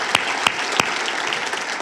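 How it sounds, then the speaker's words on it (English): Audience applause for a city commissioner at a State of the City address, steady broadband clapping from a crowd with a few sharper individual claps standing out, moderately loud and continuous. "So big round of applause for Commissioner Gowen."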